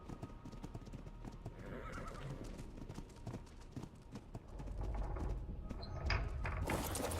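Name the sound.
horses walking and neighing in a video game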